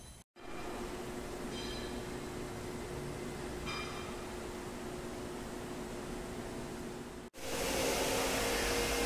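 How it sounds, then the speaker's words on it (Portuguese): The oil lubrication pump of a 1950s Olivetti milling machine runs as a steady, loud mechanical whir and hiss, broken by two brief faint clicks and a short cut, then continuing. No one speaks. "Olha o esquema de lubrificação da máquina, ó. Ele vai bombeando óleo constante."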